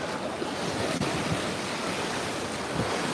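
Steady wash of surf breaking on a warm beach in late December, continuous and even with wind rumble on the microphone, no voices.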